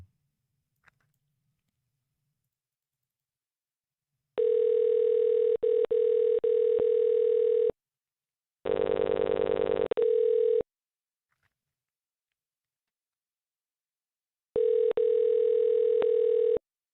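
Outgoing phone call tones: three bursts of a steady, fairly loud ringing tone separated by silence, the middle burst slightly different in character, with no talk.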